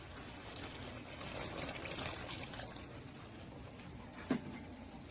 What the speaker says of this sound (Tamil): இப்போ வந்து தேவையான அளவு தண்ணியை ஊற்றிடுவோம்